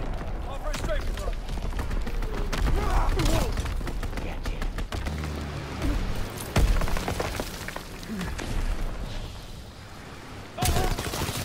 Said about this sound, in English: Fighter aircraft ready. Off for a strafe run.